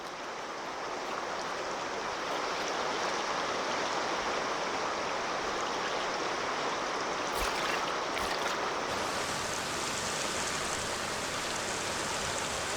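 River rapids rush past as a canoe is lined on a rope through the shallows, a loud, steady broadband roar of churning water with a few brief knocks and splashes partway through.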